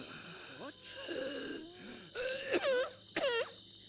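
A Sims video game character coughs and clears his throat in a series of strained, voiced hacks, with a wavering moan-like sound and two louder bursts near the end, close and fairly loud.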